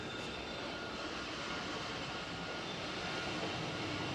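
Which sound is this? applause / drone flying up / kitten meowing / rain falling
drone flying up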